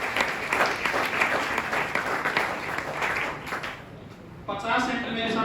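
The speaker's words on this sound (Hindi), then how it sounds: "तो एक बार नेहा मैम के लिए तालियां होनी चाहिए।" Audience applause for a teacher at a coaching-centre event for CET exam aspirants, a dense steady clapping that runs for several seconds, thins out near the end, then swells again briefly.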